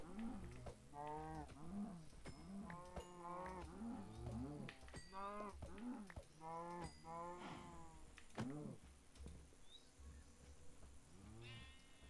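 Several cows in the game Minecraft moo over and over in overlapping calls, loud and close, with a faint buzz of flies in the background and no talking.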